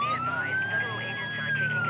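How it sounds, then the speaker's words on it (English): Wailing police car siren from a SWAT patrol vehicle in the video game GTA 5 at night in Los Santos, a loud sweeping electronic tone rising and falling steadily over a low engine hum, with a voice faintly mixed in. "Let's get our sirens on here."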